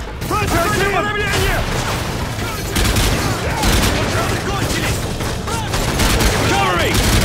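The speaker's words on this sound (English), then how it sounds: "Suppressing fire!" Rapid bursts of automatic gunfire and booms from Call of Duty Modern Warfare 3 on the Nintendo Wii crackle continuously, mixed with shouted soldier voices and radio chatter.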